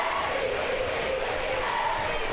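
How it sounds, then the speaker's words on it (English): A home crowd of Indians fans roars steadily and loudly at a high school boys' basketball regional co-championship game, a dense, unbroken wall of cheering and shouting throughout. "As you can hear the roar of this home Indians crowd, trying to get their team juiced up even more"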